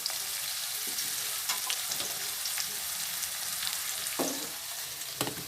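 Onion and curry leaves sautéing in hot oil in a pan for Tamil katla fish kuzhambu, a steady close sizzle with occasional sharper crackles and stirring scrapes, no voice.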